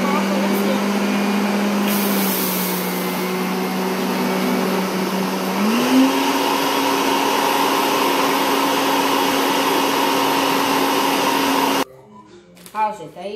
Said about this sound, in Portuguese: aí eu ligo aqui o liquidificador